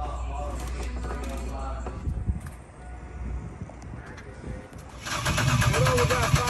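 A 6.0 LS V8 swapped into a Ford Ranger cranks with a rough, uneven churning, then catches and roars louder near the end, with people talking faintly around it.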